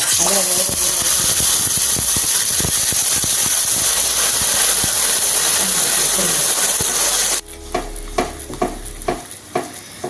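Milk-soaked semolina added to caramelized sugar for semolina halwa, loud sizzling and hissing while being stirred, then the sizzle drops off and gives way to several rhythmic scraping stirs in the pan.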